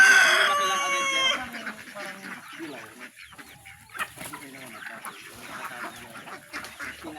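Hens cluck and a rooster calls among backyard poultry in a farmyard, the calls loudest in the first second and then continuing as scattered, moderately close clucks over a busy outdoor background.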